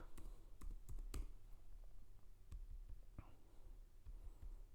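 A computer keyboard is tapped to type a database command, giving a few soft, quick keystroke clicks in a quiet room, faint and close.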